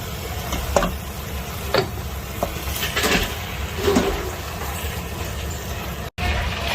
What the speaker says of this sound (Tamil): ஊற்றிட்டு நல்லா ஸ்டர் ஃப்ரை பண்ணணும்.